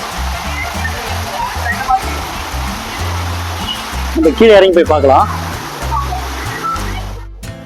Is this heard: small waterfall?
yes